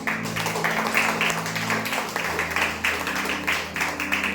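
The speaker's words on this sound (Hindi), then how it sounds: "आइए अपने खुदा के लिए हम जोरदार तालियां बजाएं।" A congregation at a Good Friday praise and worship service claps loudly for several seconds in a fairly regular rhythm, with steady low musical tones from an instrument sustained underneath.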